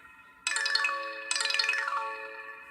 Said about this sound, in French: Notification son. On va écouter le son.